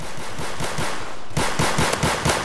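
Rapid automatic gunfire in a Roblox first-person shooter game, a fast stream of sharp repeated shots that grows louder and denser partway through, with no talking.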